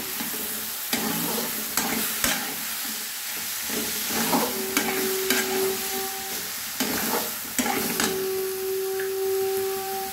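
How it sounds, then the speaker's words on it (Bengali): Grated papaya fries in a pan for a vegetarian papaya ghonto, with steady broadband sizzle and repeated scraping stirs throughout, close and fairly loud, with a couple of brief tonal beeps over it. "এবারে গ্রেট করা পেঁপেটা দিয়ে দিলাম।"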